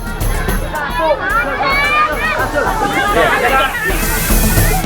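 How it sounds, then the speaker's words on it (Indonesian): A dense crowd of mothers and children pushes and jostles in a crammed queue for food packages at a village Maulud event, a loud, continuous hubbub of overlapping voices and shouts throughout. "Sejumlah ibu-ibu dan anak yang mengantri berdesakan hingga terhimpit."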